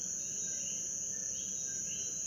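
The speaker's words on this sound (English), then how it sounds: "This is the call of the short-tailed cricket, which Isaul says sounds like a drilling bee" A short-tailed cricket's shrill, continuous high-pitched trill drones steadily without pause, with faint chirps and other insect sounds beneath it, recorded in Puerto Rico.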